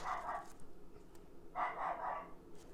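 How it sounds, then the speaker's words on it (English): Neighbor's dogs bark in two bursts of quick, repeated woofs, faint and distant against a quiet indoor background. "my neighbor's dogs are like going crazy now"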